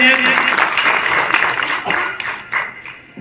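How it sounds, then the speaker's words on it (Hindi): Audience at a Hindi poetry gathering applauding loudly to welcome a poet, dense clapping that fades toward the end, with voices calling out over it. "एक बार जोरदार तालियों के साथ स्वागत कीजिए।"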